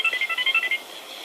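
A phone rings in the video game Gangstar Vegas with a quick warbling electronic ringtone pulsing in a steady rhythm, then fading to a faint tail. No one talks over it.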